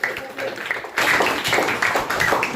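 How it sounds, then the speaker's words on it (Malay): Students in a geography classroom break into applause after a short lead-in, a burst of dense, uneven clapping that carries on loudly to the end with voices mixed in. "Okey, beri tepukan kepada."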